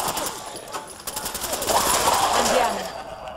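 Rapid bursts of gunfire from a weapon in the video game Fallout 4, loud and close, with someone talking over the shots.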